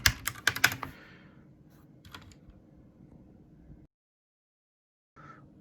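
A quick burst of key clicks on a Ducky One 2 RGB TKL keyboard with Cherry Red switches and pudding keycaps, then a few scattered keystrokes over a low hum before the sound cuts out.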